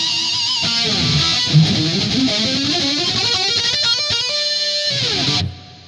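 Electric guitar solo tone on a Line 6 Helix, heavily distorted lead lines with fast bends and runs, loud and close, ringing out before cutting off at the end.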